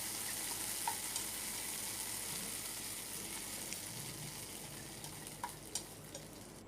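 Ground drumstick leaf paste sizzles in tempering oil with a dried red chilli, giving a faint, even frying hiss and a few soft clicks, with no one talking.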